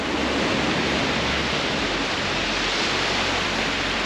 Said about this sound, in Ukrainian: під шум хвиль